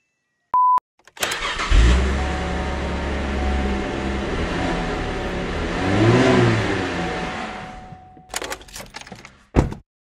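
A Porsche engine in the racing game Forza Horizon 5 revs loud and steady for several seconds, rising to a peak, then cuts off before a short burst of thumps at the end.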